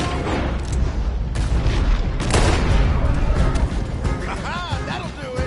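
Red Dead Redemption 2 gunfire booms in loud bursts during a roadblock chase, with shots and crashes layered over game music and voices talking.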